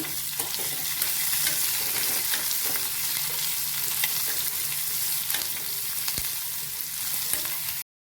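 Mushrooms frying in a pan for mushroom sukka, a steady close sizzle with occasional stirring scrapes, continuous with no voices.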